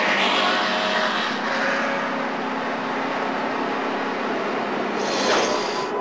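In-car roar of a NASCAR stock car engine riding with Earnhardt, a loud, continuous high-pitched drone that holds steady, then swells briefly near the end as the car works the track.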